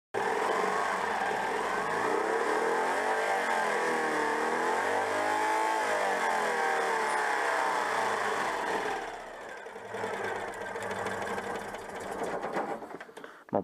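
A Citroën 2CV engine with an ignition problem runs steadily with a dense buzzing, slightly rising and falling drone, then settles to a rougher, uneven idle; loud and close, with no talking.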